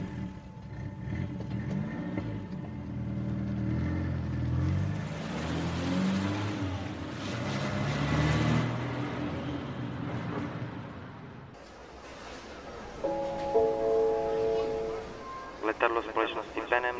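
A car drives off, heard as an audio-drama sound effect: a low engine drone builds under a speaking voice, then fades, followed by brief tonal beeps.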